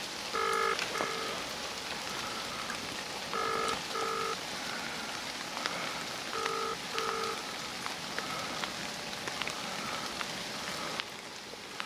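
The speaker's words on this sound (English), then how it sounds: "it rings a few times and gives up" A telephone rings in repeated pairs of electronic tones, several ring cycles spaced evenly, over a soft hissing background.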